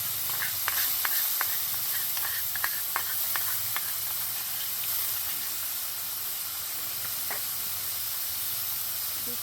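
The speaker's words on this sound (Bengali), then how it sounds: "এবার দিয়ে দেবো ফেটিয়ে রাখা টক দই।" Whisked sour yogurt going into a hot pan for a kalo jeera bata katla fish curry, giving a steady broad hiss and sizzle with a few sharp crackles early on, fairly close and without talk.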